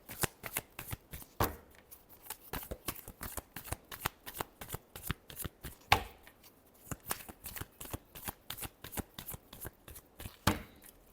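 Tarot cards are shuffled by hand in quick, close, crisp riffling bursts, repeating rhythmically with a few sharper slaps, soft and alone.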